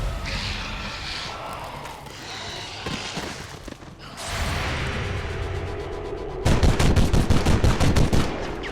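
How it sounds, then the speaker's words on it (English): Gunfire from Space Marines in the video game XCOM 2: layered sharp shots and bursts with whooshing effects, building to a loud rapid automatic volley near the end. "My Space Marines need to get better at this shooting"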